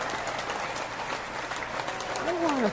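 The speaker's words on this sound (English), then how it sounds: "we have real applause by the audience" A studio audience applauds in a continuous, fairly loud clatter of clapping, and a voice cuts in briefly near the end.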